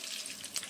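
Fenugreek and cumin seeds sizzling in hot oil in a home kitchen: a brief, faint burst of crackling frying with no other sound.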